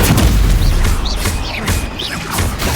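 Confringo fire spell explosions in the Hogwarts Legacy video game, a dense run of loud booming blasts with crackling bursts and rising whistles, layered over game music and effects with no pause.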